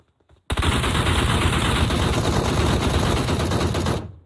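Continuous loud automatic gunfire in PUBG Mobile, one unbroken rapid burst lasting several seconds before cutting off.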